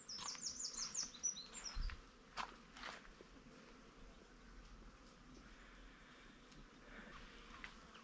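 A small bird in a quiet vegetable garden gives a quick, faint trill of high chirps at the start, then soft footsteps and insect buzz take over.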